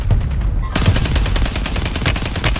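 Sustained automatic gunfire in Call of Duty Warzone Resurgence, a dense, loud stream of rapid shots kicking in after a brief muffled moment and continuing without pause to the end.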